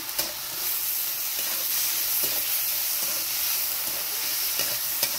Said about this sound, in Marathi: आता हे वांगे ना मिठामध्ये परतून घेते.